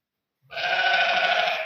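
A sheep bleats once, a loud, close, sustained and wavering cry that starts after a short silence and runs to the end.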